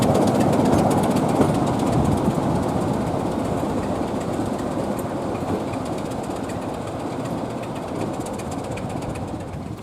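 Class 31 diesel locomotive with a re-fitted English Electric 12 SVT engine running along the line, a loud continuous rumble with rhythmic clickety-clack of wheels on rail, steady and close throughout, no voices.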